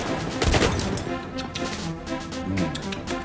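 Grenade blasts and gunfire in a video game crack out in sharp, irregular bursts, with a loud cluster of explosive hits early on and scattered shots following, all fairly close and unaccompanied by talk.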